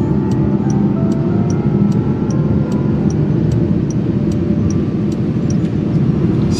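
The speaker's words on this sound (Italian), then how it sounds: "Riesco a sentire il suono della batteria, il suono del rotolamento degli pneumatici." Inside a 2021 Jaguar I-PACE electric car on the move, a loud, steady low roar of tires rolling with a faint hum, while a soft regular ticking repeats throughout.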